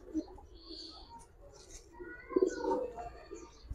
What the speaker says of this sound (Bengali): একদম ক্রিম চোখ অরিজিনাল সারানপুরি কবুতর